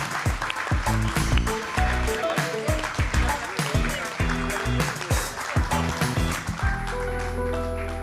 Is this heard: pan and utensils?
no